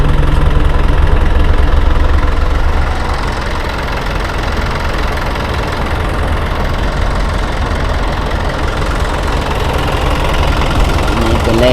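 A Hino FC9J six-wheel truck's 175-horsepower diesel engine idles steadily, a loud continuous low rumble with a slight knocking texture that holds unchanged for the whole stretch.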